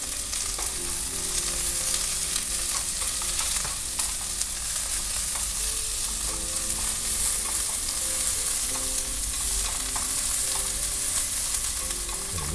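Ramen stir-fried in an oiled pan with onions and pepper, a steady loud sizzle with scraping stirs and occasional clinks running throughout.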